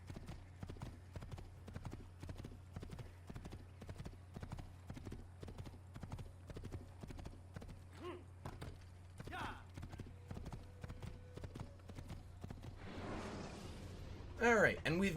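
Steady clip-clop of a horse's hooves running in Assassin's Creed, a regular galloping rhythm throughout with a faint whinny and louder scuffle near the end, and a voice talking quietly underneath.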